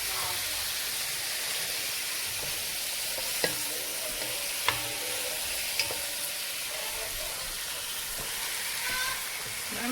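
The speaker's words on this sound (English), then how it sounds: "my fresh tomatoes. Stirring those up." Fresh tomatoes and vegetables are stirred in a hot frying pan, giving a steady close sizzle broken by a few sharp clicks of the utensil against the pan.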